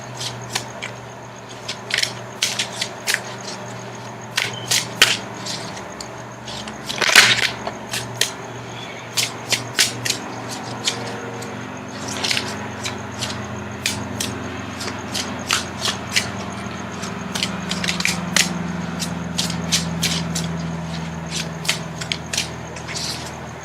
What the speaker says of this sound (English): Now I'm going to shuffle for the outcome card.